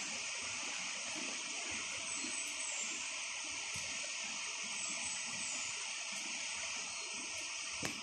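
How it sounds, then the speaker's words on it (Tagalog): A farm's river flows as a steady, soft broadband rush that continues evenly throughout, faint and fairly distant, with no voices over it. "Ayan po yung ilog namin."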